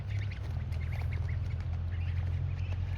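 Ducks quack and squawk repeatedly over a steady low rumble, several birds calling at once at moderate distance.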